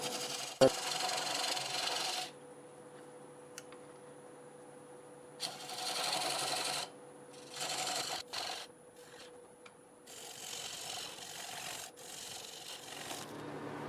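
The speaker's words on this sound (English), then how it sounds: "I'll take this little diamond point tool here and square it up." A diamond point tool squares up a maple bowl on a wood lathe, with bursts of rasping scraping cuts separated by pauses under a steady motor hum, one sharp knock near the start.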